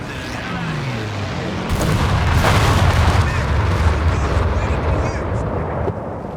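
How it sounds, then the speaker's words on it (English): Dive bomb air strike in Company of Heroes 3, with a falling whistle followed by heavy rumbling explosions that swell and hold, loud and close, under faint talk. "have a look at the dive bomb also from the Air Support Center"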